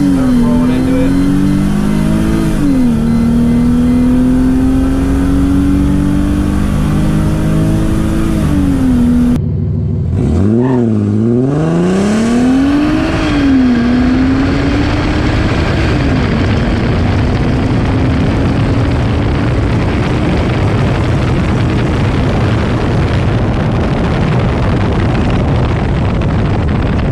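A Mercedes SLK32 AMG accelerates hard on a road in Mexico, its engine roaring loud and close as revs rise through gear changes, dip sharply around one shift, then climb again in a long sustained pull.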